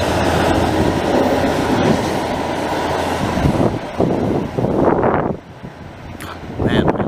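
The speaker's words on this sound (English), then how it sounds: "Oh yeah, I just missed a freight." A freight train with many cars passes close by in a Montreal-area rail setting, giving a loud, continuous rumble and rolling clatter that swells and fades at the end.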